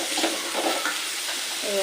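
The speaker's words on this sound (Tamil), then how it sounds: "இது நல்லா வெங்காயம் வதங்கணும், நல்லா கோல்டன் ப்ரௌனாக வரணும்." Onions sautéing in a pan for ivy gourd thokku give a steady, soft broadband sizzle with faint scraping of a spoon, close and continuous.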